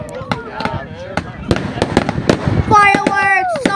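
Fireworks burst and crackle at a display in Pounawea, a rapid series of sharp pops and bangs followed by whistling, fizzing streamers, while excited voices talk and exclaim over them.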